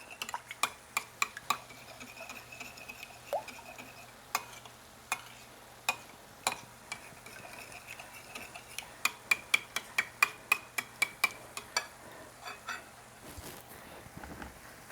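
A spoon ticks and clinks against a wide pan while a milk and cream quiche base is stirred, the sharp taps repeating irregularly and then quickening over a faint sizzle.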